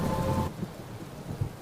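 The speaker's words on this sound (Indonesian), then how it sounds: "Hujan semakin lebat." Heavy rain pours down in a village setting, a dense steady wash of noise that drops off slightly after the first half-second, with soft low rumbles scattered through the rest.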